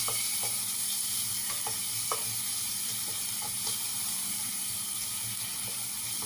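Onion sautéing in a pan gives a loud, continuous sizzle up close, with light scrapes and taps of stirring scattered throughout and no talking.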